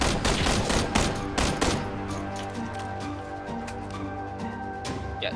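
Bursts of gunfire from the battle royale game PUBG, a few sharp close shots early followed by a steady rattling stream of rapid fire, loud and continuous, without any voices.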